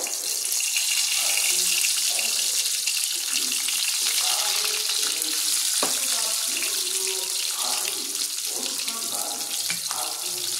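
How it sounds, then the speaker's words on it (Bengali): Eggs go into hot oil in a wok and fry with a constant bright sizzling hiss while someone talks over it. "তো তেলটা গরম হয়ে গেছে, আমি এর মধ্যে প্রথমে ডিমগুলো দিয়ে দেবো। ডিমগুলো আমি হালকা ভেজে নেব।"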